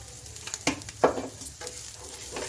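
Chicken and potato samosa stuffing with spices sizzling in a pan, with a few distinct spoon scrapes and stirring knocks over a soft, steady frying hiss, close and fairly quiet.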